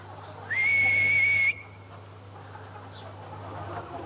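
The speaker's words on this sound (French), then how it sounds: "Siffler en travaillant, cela peut faire rêver." A person whistles one steady, sustained high note for about a second at a farm workplace, clear and fairly close, followed by a low constant hum of machinery or ventilation.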